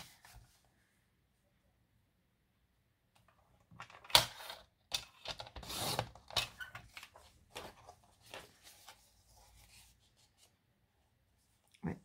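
Paper being cut for a lilac and lavender scrapbook mini album, with a quiet cluster of snips, rustles and scraping in the middle, alone against near silence.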